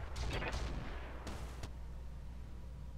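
Mech weapons firing in the video game Roguetech: a couple of sharp, loud blasts up front followed by two more quick shots, then a fading rumble with no voices.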